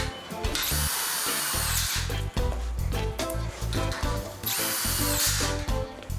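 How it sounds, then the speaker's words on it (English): A power drill drives self-tapping screws into aluminum on a rolling grow bench, whining loudly in two long bursts with the motor revving and the screw chattering as it bites, close up and without talk. "Then we're gonna screw it in with the self-tapping screws."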